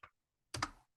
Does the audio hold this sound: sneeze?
no